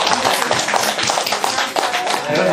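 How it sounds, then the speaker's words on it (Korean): Congratulatory applause from an audience at a Seoul meditation center dharma talk, a dense, continuous burst of many hands clapping up close for a few seconds. "축하 박수 좀 한번 주세요."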